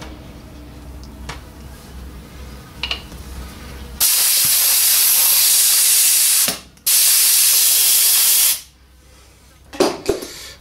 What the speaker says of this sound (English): blow them out with a bit of compressed air.